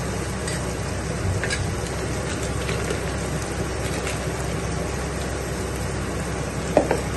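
Turmeric, ginger and garlic paste fry in a pan for a country chicken curry, giving a steady close sizzle that runs the whole time with a few small pops and stirring clinks.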